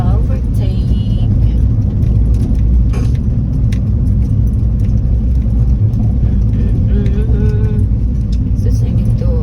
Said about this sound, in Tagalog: Okay, let's overtake. Let's overtake.